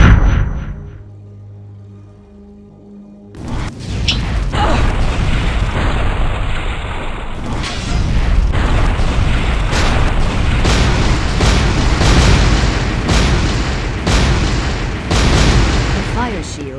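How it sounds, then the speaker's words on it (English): A fireball trap in The Wheel of Time video game, a steady loud roaring stream of fiery bursts and booms continuing for many seconds after a quiet start, with a voice talking over it. "A stream of fireballs prevents anyone from going further."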